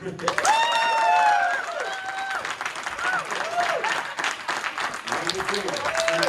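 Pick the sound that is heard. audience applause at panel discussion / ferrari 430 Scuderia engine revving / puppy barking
audience applause at panel discussion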